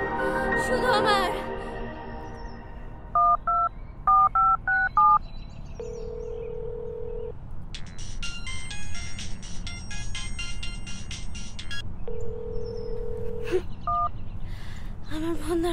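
A phone call being placed: a short run of keypad dialing beeps, then repeated long ringback tones with a brief burst of ringtone music between them, loud and close, with no one speaking.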